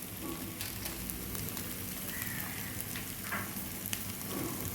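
Stuffed chili filling fries with garam masala in a pan, giving a soft continuous sizzle and crackle, faint and steady with no talking.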